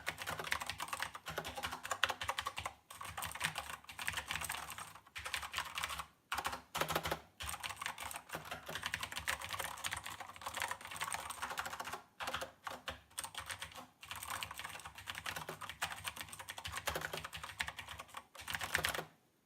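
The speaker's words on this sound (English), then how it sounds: "I'm going to give a quick typing sound demonstration." Rapid, steady typing on an EleEnter Game 2 RGB 104-key backlit gaming keyboard with knockoff Cherry MX Blue clicky switches, close and crisp. Keystrokes run continuously with a few brief pauses, and nobody talks.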